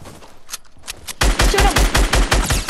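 Rapid automatic gunfire in the video game Fortnite starts abruptly after a quiet stretch and runs as a loud, close, rhythmic burst of shots through the rest of the moment.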